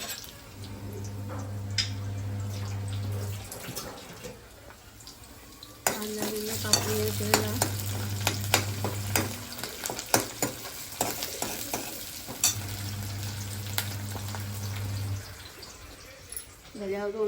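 Mashed pav bhaji vegetables sizzling in a pan while a spoon stirs and scrapes, with repeated stirring bursts and a steady fry. Someone talks over parts of it.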